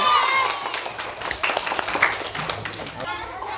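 School students clap together at a school gathering, a brisk patter of many hands mixed with lively talking and a voice speaking over it throughout.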